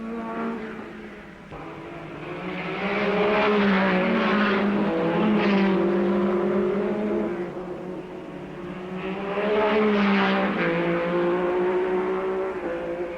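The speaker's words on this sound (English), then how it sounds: "Berra's Ferrari heads Moss's Cooper. The battle is on." Vintage 1959 race cars, a Ferrari and a Cooper, roar past with sustained engine whine that swells and fades in two passes, loud and continuous with no talk.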